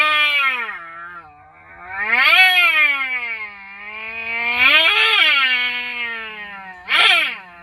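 Cat meowing in a long series of drawn-out, rising and falling cries, loud and close, ending with a short sharper meow, no talk over it.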